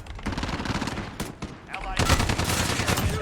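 Shotgun blasts in the video game Call of Duty Warzone, a loud, dense run of close gunfire with a heavier burst of shots in the second half.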